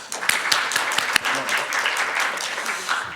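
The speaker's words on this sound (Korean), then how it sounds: "다시 한번 큰 박수 부탁드립니다" At a water-policy symposium, the audience claps for a presenter in a brief burst of dense, steady applause, with a voice audible underneath.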